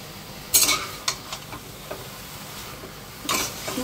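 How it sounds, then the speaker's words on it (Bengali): Mushrooms stirred in a pan on a gas stove for a vegetarian dish, giving a few scattered scraping and clinking strokes over a faint, steady background hiss. "মাশরুমগুলো একটু নেড়ে চেড়ে তারপরে গ্যাসের ফ্লেমটাকে আমি একদম মিডিয়াম আর লোতে করে ঢাকা দিয়ে দেবো।"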